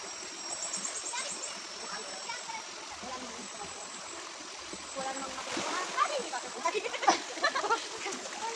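Water splashing as a person bathes in a shallow stream, irregular splashes and trickling that grow louder and busier toward the end, with voices talking over it.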